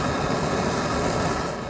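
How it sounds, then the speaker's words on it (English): A forge blower roars steadily at a blacksmith's homestead forge, a loud, continuous broadband rush of air with no pauses and no voices. "we'll turn on our blower, and then that should give it enough oxygen"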